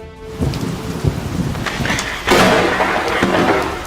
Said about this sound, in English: On a stormy, gloomy day in Manchester, the stunning moment of a lightning bolt striking the ground was captured.